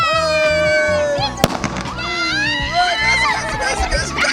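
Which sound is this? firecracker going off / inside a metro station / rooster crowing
firecracker going off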